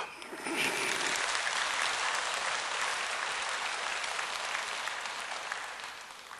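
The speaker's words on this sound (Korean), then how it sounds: "박수 좀 하셔" A church congregation bursts into sustained applause during a sermon, a broad, even wash of many hands clapping that holds for about six seconds before easing off slightly.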